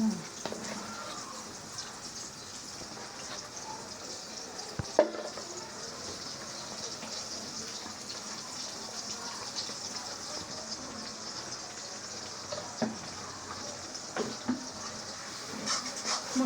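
Chili powder and spices frying in oil with potatoes and onions for a small fish curry, a steady soft sizzle running throughout with occasional faint clinks of utensil against pan.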